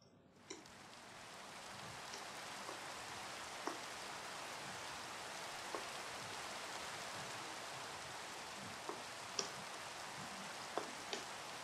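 Soft, steady Minecraft rain hiss with occasional faint drips and ticks, quiet and continuous.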